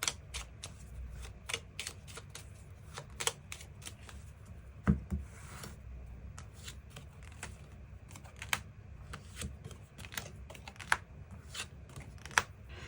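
Tarot cards shuffled and drawn at close range on a table: soft, quiet riffling and rubbing punctuated by sharp, irregular card snaps and flicks, with no voice.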